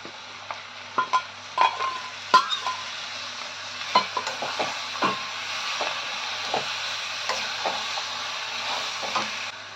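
Small fresh shrimp called jawla are stirred and fried in a pan, with a low continuous sizzle and a series of sharp utensil scrapes and knocks against the pan in irregular rhythm.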